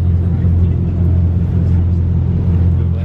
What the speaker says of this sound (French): Le 6x6 qui escorte la Chiron.